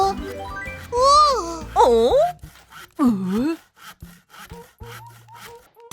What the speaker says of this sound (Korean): 그러더니 톱으로 빗자루를 잘라요.